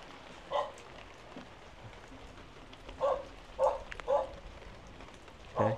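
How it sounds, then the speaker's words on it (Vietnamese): A dog barks near a rural Nùng house in the mountains, giving scattered single barks at a distance, about five spaced over several seconds, over a steady hiss of background noise. "Ui, chó."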